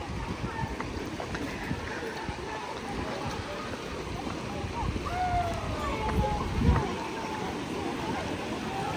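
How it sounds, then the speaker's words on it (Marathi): A stream rushes steadily beside a waterfall, a broad, continuous wash of flowing water that fills the background with faint voices beneath it. "हा जो सगळा बॅकग्राऊंड नॉईज आहे हे सगळं इथे असलेल्या पाण्याचं आहे"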